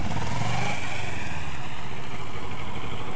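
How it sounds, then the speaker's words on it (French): A motorcycle engine revs with more throttle during a riding exercise, a loud continuous mid-pitched roar that rises briefly early on and then holds steady and close. "Donc exercice avec plus d'ouverture de gaz pour redresser la moto."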